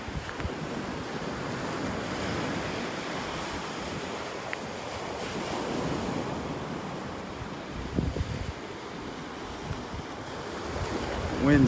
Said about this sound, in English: Wind's blowing right in my face now.